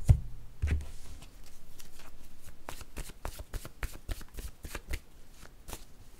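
Oracle cards being shuffled near at hand, a steady run of crisp riffling flicks and soft slaps repeating for several seconds, with no talking.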